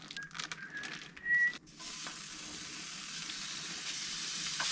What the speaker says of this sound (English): Got our bacon in there sizzling all